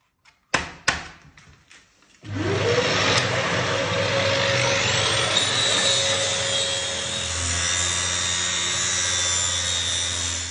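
Angle grinder fitted with a 200-grit diamond turtle polishing pad works a ceramic tile edge: a few sharp knocks, then the motor spins up into a loud, steady whirring grind that holds for several seconds.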